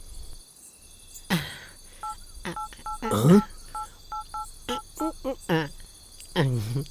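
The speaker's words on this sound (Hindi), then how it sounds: "फोन लगा तो रहा हूँ" A run of short electronic telephone keypad beeps, several in quick succession with brief pauses, mixed with a few sharp clicks and faint voices, in a Hindi-dubbed film scene.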